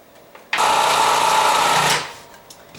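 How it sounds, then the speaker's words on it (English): A food processor whirs loudly for about a second and a half, grinding sweet potato with cinnamon and nutmeg for a vegan pie filling, starting abruptly and stopping, with quiet room sound on either side. "Once that gets processed down till it's nice and creamy"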